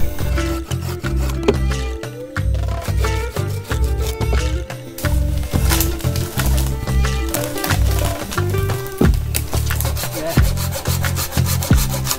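Pine timber being sawn by hand for a campfire outdoors, rapid rhythmic back-and-forth rasping strokes, loud and close, with brief pauses between bursts.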